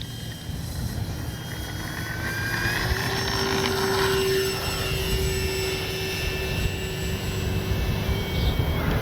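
A Kavan Bristell B-23 RC airplane flying in windy conditions, its electric motor whining steadily with shifting pitch as it passes, the drone mixed with gusty wind rumble and no talking.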